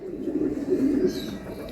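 Girbaz flying pigeons coo steadily in low, rolling murmurs, close and fairly loud, with no talk over them.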